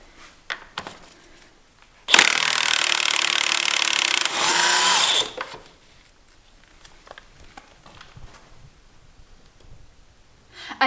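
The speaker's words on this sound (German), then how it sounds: "Als nächstes schneide ich die Kette einfach mit einer Flex durch" Angle grinder cutting through a motorcycle chain on a Yamaha XJ6, a loud, steady high-pitched grinding burst of about three seconds with a brief dip midway, then quiet workshop sounds.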